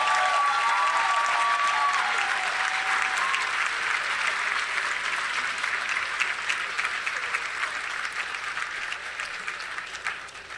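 Audience applause fills a hall at a medical school white coat ceremony, a dense, loud wash of clapping from a large crowd that starts strong and slowly thins out, with a faint whistle early on.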